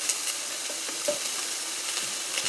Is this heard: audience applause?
no